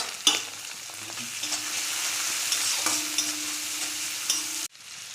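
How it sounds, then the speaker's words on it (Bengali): Shrimp fry in a pan with salt and turmeric, crackling steadily while a utensil stirs and scrapes now and then, and the sound cuts off abruptly near the end. "চিংড়ি মাছটা একটু আমি ভেজে নেব"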